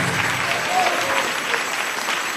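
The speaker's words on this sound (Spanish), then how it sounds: "Dale ese aplauso al Señor" A church congregation claps loudly and steadily in a dense, sustained burst of applause, with voices mixed faintly underneath.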